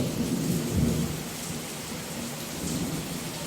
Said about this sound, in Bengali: এদিকে বৃষ্টি হচ্ছে বাজ পড়ছে